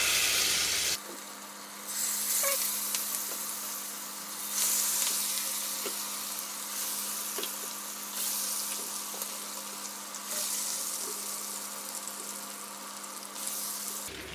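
Chicken leg pieces fry in oil with a continuous crackling sizzle, close and steady, and the loudness swells and eases several times as pieces go in and are stirred.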